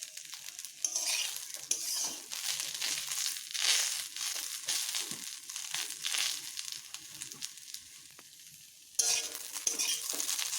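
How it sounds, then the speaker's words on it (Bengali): Moringa leaves fry in a pan, stirred continuously: a bright, crackling sizzle with scraping and crinkling, fairly close and steady, briefly dipping then surging again near the end. "একটু ভালোভাবে ভেজে দিচ্ছি আমার ভাজা প্রায় হয়ে এসেছে"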